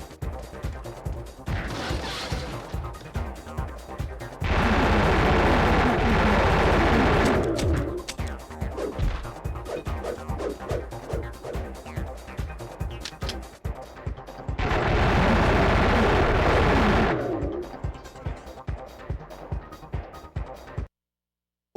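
Machine pistol fire in the PS1 game Blade, with rapid bursts of loud gunfire in two long sustained stretches between steady rhythmic shots and impacts, all close and loud.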